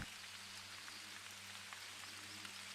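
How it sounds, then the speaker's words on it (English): Steady rain patters continuously at an even level in the video game theHunter: Call of the Wild, with a faint low hum underneath and no talking. "And the rain is coming back in."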